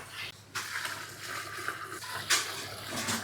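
Water poured into a large cooking pot of mutton dalcha being made for about 150 people, 7.5 litres going in as a steady broadband gush and splash that runs throughout, with a brief stronger surge partway, no talk.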